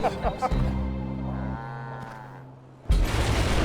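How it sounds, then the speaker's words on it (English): A cow moos loudly and close by, one long drawn-out low call that rises into a strained tone, followed by a burst of rough outdoor noise at a roadside rescue scene. "Right now, Mr. Cow is just hanging out with his buddies"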